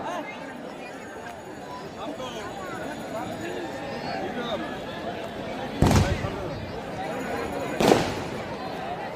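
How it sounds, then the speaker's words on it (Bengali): Two sharp firecracker bangs go off a couple of seconds apart at a village sporting event, over a continuous babble of crowd chatter and nearby talk. "চারিদিকে আতশবাজি আমরা দেখতে পাচ্ছি, পটকাবাজি আমরা দেখতে পাচ্ছি"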